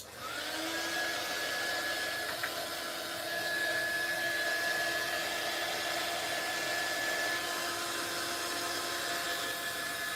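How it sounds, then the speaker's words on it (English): A heat gun blows steadily and loudly for the whole stretch, a constant airy roar with a thin whining tone running through it. "I'm going to put that hot heat gun on for a second"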